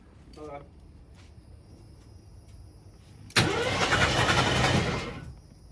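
An AMC Concord's starter cranks the engine after 26 years parked, a loud, fast, even turning-over that begins abruptly after a quiet moment and runs for about two seconds before fading; a brief voice is heard beforehand.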